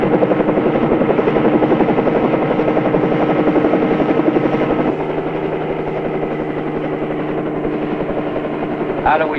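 A helicopter flies low overhead, its rotor chopping loudly and steadily for the whole stretch, easing slightly in volume partway through.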